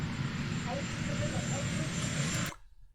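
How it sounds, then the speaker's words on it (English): A helicopter flies with a steady, dense rotor and engine roar that holds loud and even, then cuts off abruptly near the end. "But listen to those helicopter sounds."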